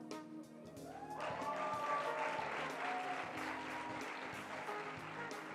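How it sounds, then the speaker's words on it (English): A crowd applauds the Taiwan delegation at the IPSF World Congress 2019 opening ceremony in Kigali, dense continuous clapping that swells after the first second and holds steady to the end, with a faint tonal line beneath. "big round of applause to Taiwan."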